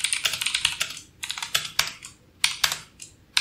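Fingers typing code on a computer keyboard, rapid bursts of crisp clicking keystrokes separated by short pauses, close and clear with no voices.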